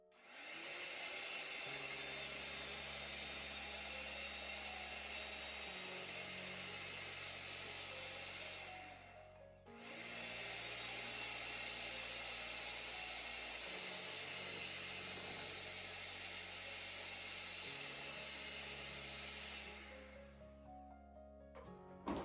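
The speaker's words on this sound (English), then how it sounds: "then we come in with our hand mixer, give it a good mix" A hand mixer whips a soap mixture at close range, running in two long bursts separated by a short pause, its motor tone holding even.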